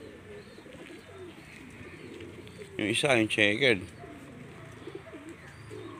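Pigeons coo in a racing pigeon loft, one close bird giving a brief throaty rolling coo amid soft background bird chatter while someone talks.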